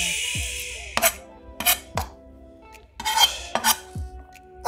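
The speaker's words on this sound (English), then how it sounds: "Put it all together in a bunch and then run your knife over it." A knife chopping food on a cutting board while cooking stew chicken, a series of sharp, close chops in short bursts with brief pauses between them, and no talking.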